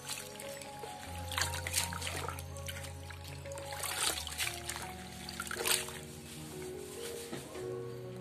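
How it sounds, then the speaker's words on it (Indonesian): A potted Calathea stromata plant dunked in water for a short soak, giving a steady trickle and gentle splashing with small drips throughout, close and fairly quiet. "Kita celupin air sebentar, nggak apa-apa sampai ke daunnya gini, nggak apa-apa, terendam"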